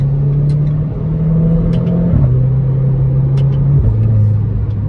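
A Renault Clio 4 RS Trophy fitted with a full exhaust drones loudly while driving, its engine tone dropping in distinct steps at each gear change, heard from close by with no speech.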